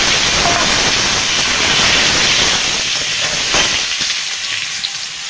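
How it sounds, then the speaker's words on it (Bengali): Potatoes fry in hot oil in a home kitchen, producing a loud, close, constant sizzle that thins slightly near the end, with no speech. "আমি আলুগুলো ভেজে নেব।"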